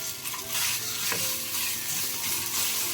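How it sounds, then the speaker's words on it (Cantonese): Meat slices frying in a hot non-stick pan of oil produce a loud, continuous close-up sizzle, with faint stirring and scraping over it and no talk. "喺呢個時候已經可以加入我哋啲肉片噶啦。"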